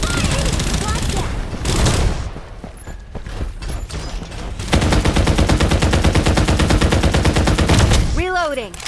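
Rapid automatic gunfire exchange in the Farlight 84 shooter video game during city combat, loud dense bursts of shots with brief mechanical clicks and pauses, ending in a short rising electronic effect.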